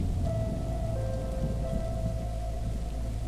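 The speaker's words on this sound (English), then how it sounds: "The rain around us thickened, each drop striking sharper, heavier, as if the garden itself was leaning in." Heavy rain pours down in a garden, a dense, loud, constant wash with low thunder rumbling beneath, steady throughout with no voices.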